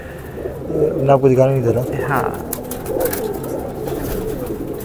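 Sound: pigeons cooing

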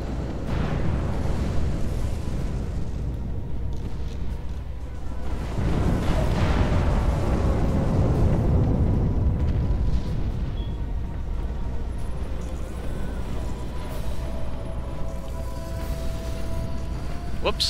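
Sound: capital ship exploding in Sins of a Solar Empire video game

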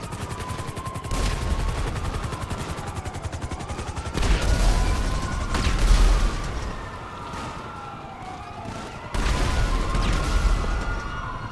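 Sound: explosions from a modder's explosive pistol in the video game GTA 5 Online

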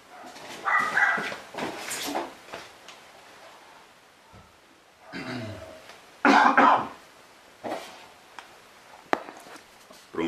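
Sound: dogs barking outside

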